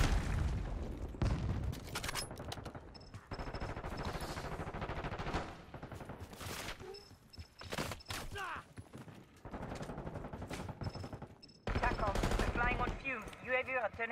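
Gunfire in Call of Duty Black Ops 6, with bursts of automatic weapon fire and booms coming in loud, choppy waves, broken by brief lulls and overlaid by game radio chatter.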